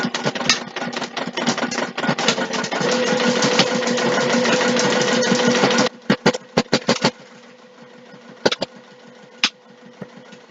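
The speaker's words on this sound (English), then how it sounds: "I'm also back stitching over the handle there." A sewing machine back-stitches fabric on a zipper bag, running in a fast steady whir for about six seconds, then stopping and starting in short bursts with clicks.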